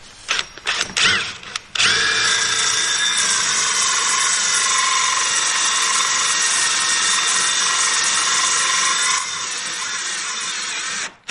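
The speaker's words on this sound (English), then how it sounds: "So we're going to go ahead and drill this out here." A power drill bores a hole for plumbing rough-in during post-frame home construction: a few short trigger bursts, then a loud, steady, high whine running continuously for about nine seconds before cutting off.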